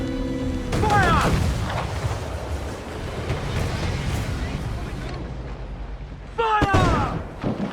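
Ship cannons fire in Assassin's Creed 4 Black Flag, with two heavy booming volleys several seconds apart rolling over a rumbling sea, and shouting voices over each blast.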